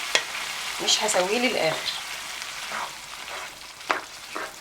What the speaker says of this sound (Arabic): بعد ما قلبت كل التوابل بتاعتي مع الرز هنزل بقى بالميه بتاعتي